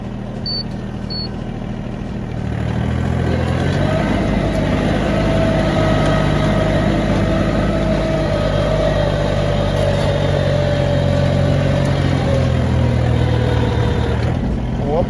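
An Iseki TA235 tractor tilling soggy, rain-soaked soil, quiet at first before the engine revs up to a loud, steady drone with a faint rising whine layered over it.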